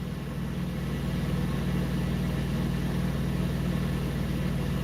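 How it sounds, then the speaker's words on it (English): A fire truck idling nearby at a trucking stop, a steady low engine drone with a constant rumbling hum that holds even throughout, no voices over it. "Yeah, there's a fire truck here now."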